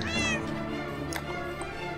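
A Minecraft cat meows loudly and close, a clear rising-falling cry near the start followed by fainter mewing tones over game background sounds.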